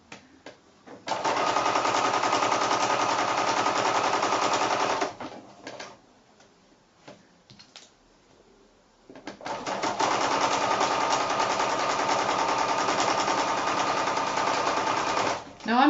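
A sewing machine stitches quilt pieces at a quarter-inch seam in two long, steady runs of rapid, close whirring, separated by a few seconds of quieter handling sounds while pins are pulled out.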